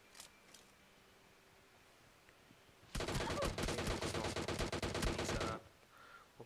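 Rapid automatic gunfire in a PUBG squad match on the Erangel map bursts in suddenly, a dense run of fast repeated shots lasting under three seconds, loud against a quiet game background with no talk.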